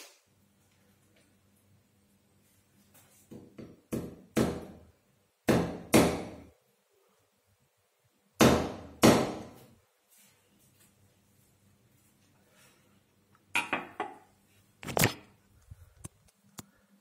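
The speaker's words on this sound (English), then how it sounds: "Okay, I hammer a nail in." Hammer blows driving a nail, sharp loud strikes in pairs and short clusters separated by quiet pauses, close by with faint background hum.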